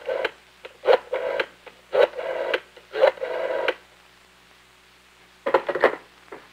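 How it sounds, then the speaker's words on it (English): Telephone extension dialed on a 1964 Dial Com system: a series of short, distinct tone bursts in quick succession, grouped with brief gaps, then a pause and a few more tones near the end, clear and close. "Finally, then, you dial the last 4 digits, which represent the extension number of the person being called."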